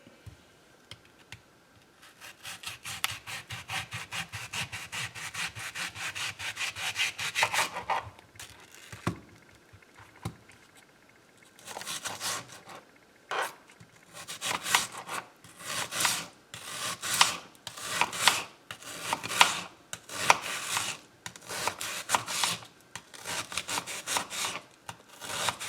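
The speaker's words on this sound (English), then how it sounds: "I am going to go ahead and just chop these onions up" Two onions being chopped with a knife on a cutting board in a home kitchen, a run of crisp, closely spaced blade strikes in bursts, the later cuts sharper and more rhythmic, with no talking.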